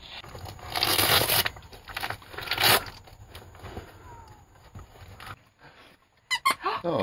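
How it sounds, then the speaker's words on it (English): A dog toy squeaks in a few quick bursts near the end, during a living-room gift unwrapping. Paper crinkles and tears loudly earlier in the clip, with faint talk in the background. "Oh, great. Squeaky toy."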